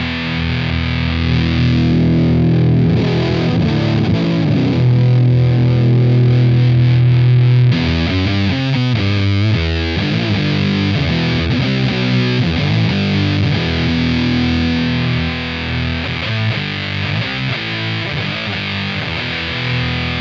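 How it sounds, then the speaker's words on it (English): Loud, fuzzy, heavily distorted electric guitar through a KMISE fuzz pedal, playing continuously with thick saturated chords and riffs and no voices. "I don't want a fuzz to sound like that"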